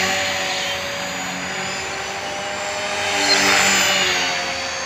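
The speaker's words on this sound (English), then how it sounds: "It's an awesome little helicopter" A 450-size RC helicopter with a Turnigy 2218 motor flies close by, giving a steady high whine and rotor buzz that swells louder near the end, with no voices.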